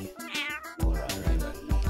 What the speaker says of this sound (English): this gentleman here beside me is my partner and cat, Mike.